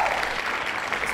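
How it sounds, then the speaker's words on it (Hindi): Brief, fairly quiet burst of audience applause at a writers' awards ceremony, dense clapping heard for just over a second with no talk. "बहुत सारी तालियां।"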